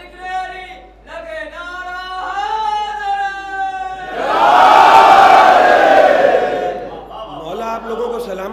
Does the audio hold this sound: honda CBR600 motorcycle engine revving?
no